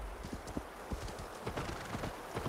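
A horse walks in the video game Assassin's Creed Valhalla, its hooves clip-clopping in a loose, uneven rhythm of close, distinct hits over a soft background of ambient noise.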